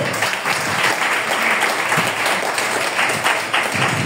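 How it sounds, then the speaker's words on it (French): Many worshippers in a church clap together to acclaim the Lord, a loud, continuous roar of applause holding steady through the whole stretch with slight swells and dips. "On peut acclamer le Seigneur."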